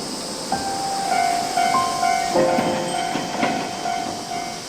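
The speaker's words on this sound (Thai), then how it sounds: "เฮ้ยรถไฟมาแล้ว" A train pulls into a station in the VRChat virtual world, giving a steady rumbling roll with hiss and sustained whistle-like tones that swell and fade, loud and continuous with no talk.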